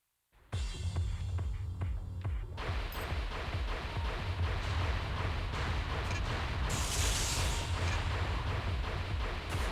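An Armored Core 3 plasma cannon fires and fills the air with a loud, continuous churning roar of heavy rumbling blasts that starts abruptly and runs on without letup.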